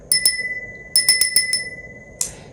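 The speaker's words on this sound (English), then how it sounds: "please be aware I'm going to ring a bell" A small bell rings in close, bright strikes: two quick rings, then a cluster of four, and a final softer ring, each with a short shimmering decay in a quiet room.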